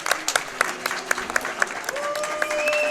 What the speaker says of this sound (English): Oh, they're booing because they don't want it to end.